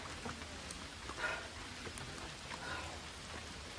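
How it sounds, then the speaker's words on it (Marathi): Light rain falls on a foggy hill fort trail in the Sahyadri mountains as a faint, steady hiss with soft scattered patter, and nothing else stands out. "थोडा बारीक पाऊस चालू आहे"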